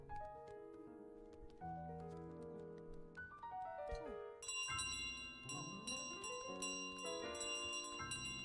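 Chiming bell-like tones ring in Untitled Goose Game at a miniature golf course, a cascade of melodic metallic notes rising and falling over several seconds alongside game music, with no talking.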